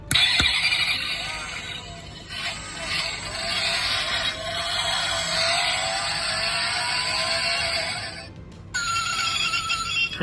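Tinny electronic engine revs and drifting noises from a small speaker in an Initial D AE86 toy car play almost continuously, with a couple of brief dips and a short gap near the end.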